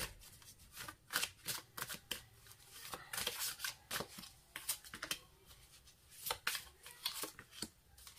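Tarot cards being shuffled for a reading, a close, dry riffling and flicking that repeats in irregular bursts with no talking.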